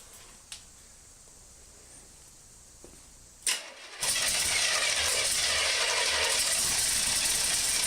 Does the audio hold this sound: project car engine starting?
yes